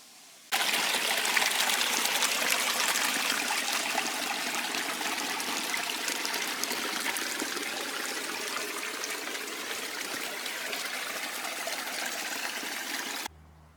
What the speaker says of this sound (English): You can hear water running.